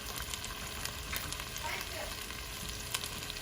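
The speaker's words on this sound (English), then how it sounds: "I like to stir fry the potatoes until it's like kind of crisp on the edges" Three small potatoes stir-frying in a pan until crisp, a steady dense sizzle and crackle with scattered pops, fairly close and continuous with no talking.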